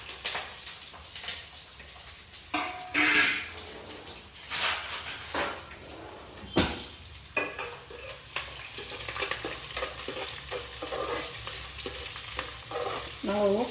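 Onion frying in oil with dried red chillies and curry leaves for a pumpkin palya: close, crackling sizzle punctuated by repeated spoon scrapes and stirring strokes, with occasional sharp pops and bubbling toward the end, no voices.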